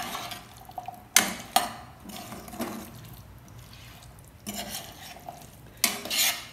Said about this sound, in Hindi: इन छोलों में हाथ चलाते रहें ताकि ये छोले नीचे से लग ना जाए।